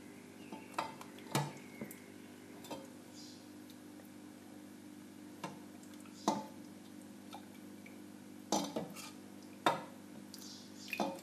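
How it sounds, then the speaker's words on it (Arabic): Dishes and utensils clink in a few brief, scattered knocks while a plate of tchich bel qarnit, a cauliflower and semolina soup, is served up in a home kitchen, over a steady low background hum. "دونك باش نطلع صحن"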